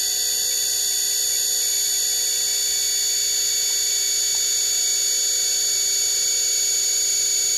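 A converted washing machine motor spins at speed, giving a steady high-pitched electric whine with several sustained tones. It stays loud and even throughout, with no talking.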